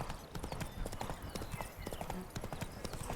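Steady clip-clop of horse hooves in The Witcher 3 Blood and Wine, in the green Toussaint countryside, with continuous rhythmic hoofbeats and a busy game soundscape underneath, moderately loud and close.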